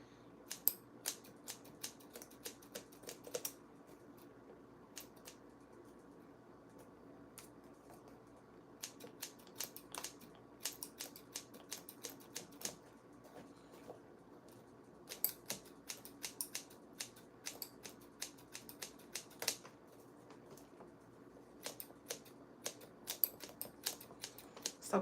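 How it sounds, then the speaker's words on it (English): Scissors snip into a wig's hair in short bursts of rapid, crisp point-cutting clicks separated by pauses, close and fairly quiet with no talk. "So point cutting is getting rid of the excess here"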